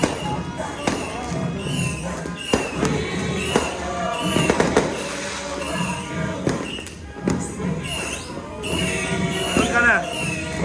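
New Year fireworks bursting in repeated sharp bangs and crackles across the night, some near and loud, mixed with people talking and cheering close by.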